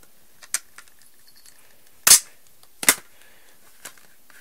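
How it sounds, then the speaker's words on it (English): Plastic CD case being pried open, giving two sharp, loud scraping snaps about a second apart with fainter clicks around them, no talking. "That was a painful scraping sound"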